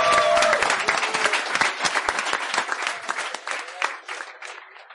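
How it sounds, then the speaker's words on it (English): A crowd at BlizzCon 2018 claps enthusiastically for a panel, dense applause that starts loud and gradually thins and fades over several seconds. "Give our panelists a big round of applause."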